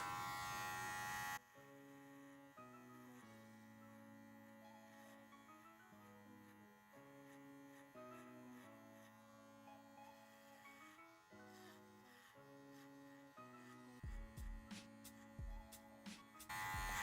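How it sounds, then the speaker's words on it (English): An electric hair clipper buzzes steadily while fading the sides of a faux hawk haircut, its motor pitch shifting as it moves through the hair, with a few sharp clicks and handling noises near the end. "As you can see, my clipper goes all the way up to my profile guide."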